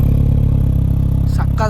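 A Mini hatchback sports car's engine idles and revs close by, a steady loud mechanical drone with a rhythmic pulsing, while a voice speaks briefly near the end.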